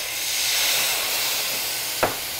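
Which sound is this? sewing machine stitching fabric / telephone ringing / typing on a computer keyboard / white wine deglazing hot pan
white wine deglazing hot pan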